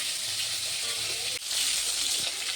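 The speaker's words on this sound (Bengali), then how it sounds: "মাছটা একটু ভাজাটা বেশি হবে, বেশি করে ভাজা হলে তবে টেস্ট লাগে।" Fish fries in a pan in a Bengali home kitchen, giving a loud, steady, close sizzle that barely dips for a moment and never stops.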